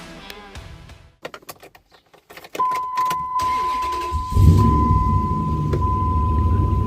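A 2003 Dodge Ram 1500 Laramie double cab pickup with a 5.7 litre V8 Hemi and two-wheel drive: a few door clunks, then a steady warning chime, then the engine cranks, catches and settles into a loud, close, rumbling idle.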